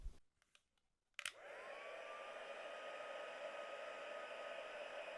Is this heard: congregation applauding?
no